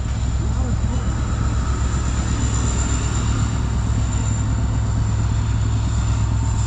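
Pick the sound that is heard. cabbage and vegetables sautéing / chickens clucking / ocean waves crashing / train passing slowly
train passing slowly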